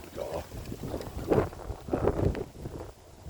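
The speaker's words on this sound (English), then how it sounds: "You can hear that flapping. It's my flag, my England flag." Gusty wind rustles and flutters around the microphone in irregular bursts, with faint flapping from an England flag, fairly quiet overall.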